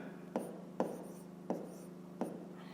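A pen writes a math solution on paper, making four short scratchy strokes spaced about every half second to second, each a brief rasp close to the microphone over quiet background hum.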